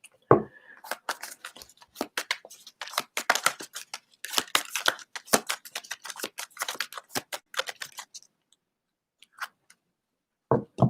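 Tarot cards being pulled out and shuffled by hand, a rapid run of crisp papery flicks and taps close up, trailing off into quiet with a last few snaps.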